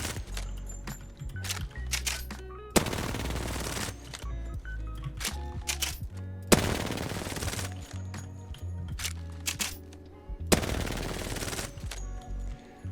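Automatic weapons fire in rapid sustained bursts in the video game Apex Legends, three long volleys separated by pauses, crisp and close, with clicking handling sounds between them.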